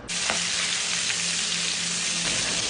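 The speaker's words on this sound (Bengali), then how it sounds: "মাছ ভাজার এই সাউন্ডটাও আমার অনেক ফেভারিট" Rohu fish pieces frying in hot mustard oil, a steady, dense sizzle that holds evenly loud and close throughout, with a few faint pops and no voices.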